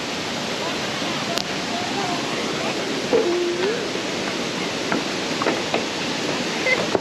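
Tad Ngueak waterfall in southern Laos, a constant dense rushing roar of falling water, loud and unbroken throughout, with faint voices now and then.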